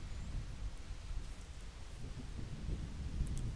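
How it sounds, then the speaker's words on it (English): Steady rain hisses with a low rumble of thunder during a thunderstorm in the video game Zelda: Ocarina of Time, even and continuous, with no voices. "And there's a thunderstorm."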